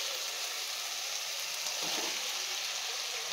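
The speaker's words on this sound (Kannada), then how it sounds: "ಆಯಿಲಲ್ಲೇ ಸಾಫ್ಟ್ ಆಗೋ ತನಕ ನಾವು ಮಧ್ಯದಲ್ಲಿ ತಿರುಗಿಸ್ಕೊಂಡು ಫ್ರೈ ಮಾಡ್ಕೋಬೇಕಾಗುತ್ತೆ" Snake gourd frying in oil in a pan, a soft, even sizzle holding steady throughout, with a brief clatter at the very end.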